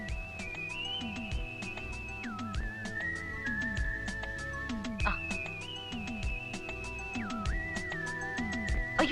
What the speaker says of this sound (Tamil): ஒரு ஐயா மேலிருந்து வந்து விசில் அடிச்சாரு.